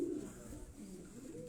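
High-flying pigeons in Quetta coo softly in low, throaty pulses, faint and somewhat distant against a quiet background hum.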